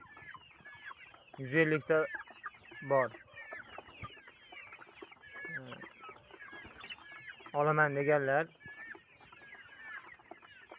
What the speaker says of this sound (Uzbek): Mana hashak tovuqlar o'zimizniki jaydar tovuqlar.